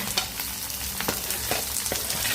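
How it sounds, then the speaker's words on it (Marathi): Onion fries in a pan with green chilli and curry leaves for an okra dish, producing a continuous close sizzle with several quick stirring scrapes and no voices. "मग आता कांदा घालायचा."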